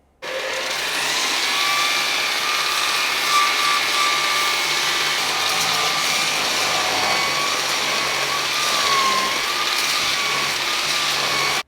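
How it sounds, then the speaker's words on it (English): A belt sander sands an airbag bump-stop spacer flat, producing a loud, steady whining motor drone with slight shifts in pitch as the part is pressed against the belt, continuous for the whole stretch and without speech. "I'm going to shove it on the belt sander, just sand that down flat"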